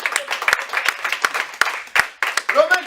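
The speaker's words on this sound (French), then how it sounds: "Est-ce que quelqu'un peut acclamer la vérité vraie?" A church congregation claps and cheers, with uneven sharp claps and shouted voices rising and falling over a few seconds, fairly close and loud.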